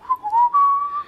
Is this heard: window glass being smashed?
no